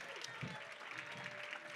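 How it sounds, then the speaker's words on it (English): An audience claps for the Metaphor Houston youth team at a convening plenary, a faint, even patter of many hands filling the short moment, with faint voices mixed in. "If we could start clapping for the Metaphor Houston team"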